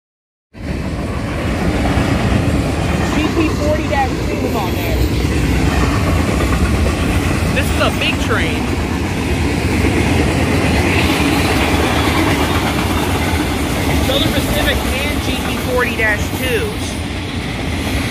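A Union Pacific manifest freight train, led by a GP40-2 locomotive with an ex-Southern Pacific unit and a distributed power unit, rolls past a road railroad crossing, loud and close, its wheels clattering steadily over the rails throughout.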